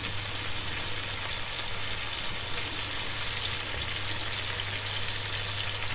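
Onions and garlic frying in a pan for turnip curry, giving a steady, soft sizzle with faint crackle that continues evenly without pause or talk.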